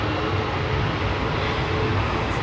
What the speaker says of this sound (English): Lufty on the roll now, heading back to Frankfurt